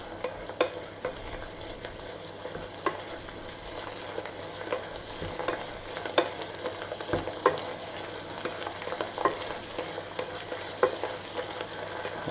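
Red wine sauce thickened with cornstarch simmering and bubbling in a pan on a stove, a steady soft sizzle with scattered small pops and occasional stirring clicks throughout.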